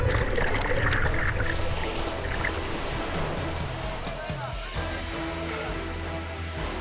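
Heavy surf rolls and crashes along a Sri Lankan beach where fishermen haul a long net by hand, a broad continuous wash of breaking waves close by, with faint voices blending into the roar.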